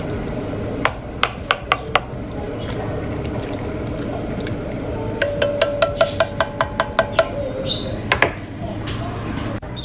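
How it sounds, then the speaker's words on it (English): A Pampered Chef crushing tool pressing tomatoes in a pot for fall soup gives a sequence of sharp, wet clicking squelches, a few spaced strokes and then a quicker run of about a dozen, close and moderately loud. "I'm just going to use this tool to crush up my tomatoes"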